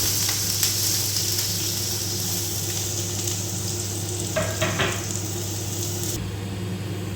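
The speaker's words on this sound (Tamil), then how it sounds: "இதெல்லாம் போட்டு நல்லா வதக்கணும்" Steady sizzling of onions and green chillies sautéing in a pan, with a few brief stirring scrapes partway through; close and moderately loud, no talking.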